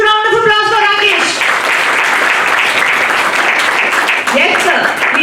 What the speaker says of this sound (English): Big round of applause for Rakesh.